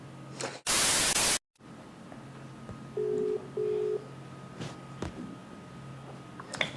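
Phone dialing a call, heard as a burst of static and a sharp dropout followed by two short steady tones over a low constant hum, then faint clicks.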